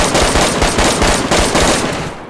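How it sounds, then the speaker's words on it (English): Rapid automatic M4 rifle fire in a PvP video game, a loud, dense stream of shots rattling continuously for the whole burst and tapering slightly at the end, with no talking over it. "it's crazy how much, like, more damage the M4 rounds do."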